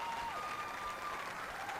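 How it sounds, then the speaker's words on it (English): A stadium crowd at a women's A-League football match applauds in a steady, dense wash, with a faint tonal whistle running through it. "A great round of applause for"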